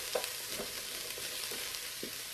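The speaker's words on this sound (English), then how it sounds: "while this is sautéing" Onions turn translucent as they sauté in an Instant Pot for barbecue sauce, giving a steady soft sizzle with a few faint stirring scrapes and no talk.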